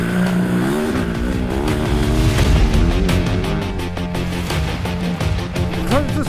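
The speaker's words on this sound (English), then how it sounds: "Close the throttle, and that ka-ding-ka-ding-ka-ding-ka-ding-ka-ding-ka-ding is what I used to listen for" A 700cc two-stroke dirt bike engine with the throttle closed, loud and close, its pitch wavering and falling as the bike decelerates, with a choppy, uneven drone under a steady roar of wind.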